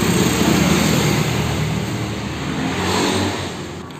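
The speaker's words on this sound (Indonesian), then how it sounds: "Sorry banget kalau emang banyak suara masuk karena ada di pinggir jalan ya." Roadside traffic rumbles steadily beside a parked work pickup, a car engine revving and passing nearby, loud and continuous with a slight swell near the end.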